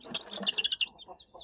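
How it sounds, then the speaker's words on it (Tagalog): Three-week-old native chicken chicks chirping in a quick run of high, close peeps, several sharp calls clustered together before trailing off into softer chirps. "So ito palang sisiw natin guys is 3 weeks old"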